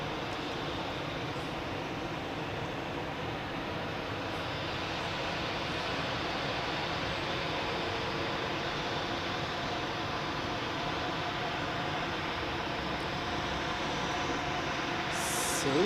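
An Air France airliner departs Zurich Airport for Paris, a steady broadband jet roar holding at a constant distance and loudness throughout.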